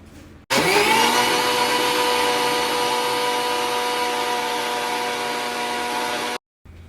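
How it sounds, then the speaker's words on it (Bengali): A kitchen mixer grinder whirs steadily while blending yogurt, cold water and sugar into a lassi, a loud continuous motor drone that starts abruptly, holds for about six seconds and cuts off. "মিক্সিতে আমি দুবার ঘুরিয়ে নিলাম"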